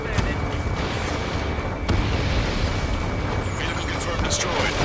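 A destroyed vehicle blows up in Ace Combat 7, a dense rumbling roar of explosions and heavy booms under radio chatter, with a sharp burst near the two-second mark, loud and continuous.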